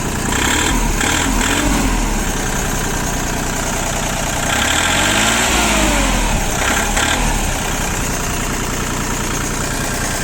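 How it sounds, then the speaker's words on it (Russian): An ISEKI TU185 Japanese tractor engine runs loud and close, revving up twice and settling back to a steady idle between the bursts. "Газ двигатель отзывается хорошо."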